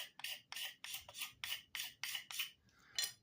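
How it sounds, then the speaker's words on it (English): A small handmade stone Wharncliffe fixed blade from South Africa scrapes wood in about nine quick, evenly spaced rasping strokes, close and fairly loud, with no talk. "I've been using this little stone handmade Wharncliffe fixed blade from South Africa to do scraping"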